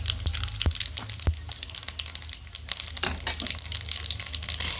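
Cumin and mustard seeds splutter in hot oil for an alu sabzi, giving close, crackly frying noise with sharp pops and crinkling bursts throughout, and no voices.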